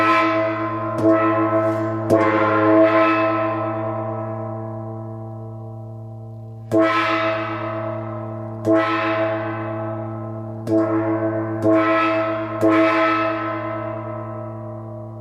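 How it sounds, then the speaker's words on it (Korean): A large Korean jing gong is struck several times, each deep metallic hit ringing out with a long, shimmering decay before the next blow. "한번 징 소리 들어볼게요."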